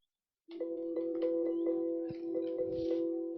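Windows system beep routed through the Scream virtual audio driver on a KVM guest, a sustained electronic tone with steady harmonics and regular ticking pulses, loud and continuous after a brief silence.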